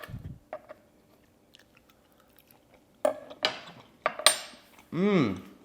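Cutlery scraping a plate while a medium rare steak is cut, then chewing, with a few brief clinks and scrapes after a quiet stretch, close and moderately loud.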